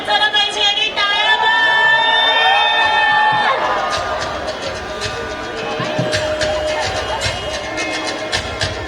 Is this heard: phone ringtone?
no